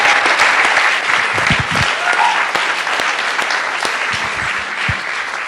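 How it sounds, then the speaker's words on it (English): A panel discussion audience claps steadily, a full and dense burst of applause filling the room at close range, with a few voices faint underneath. "Another round of applause for Joe."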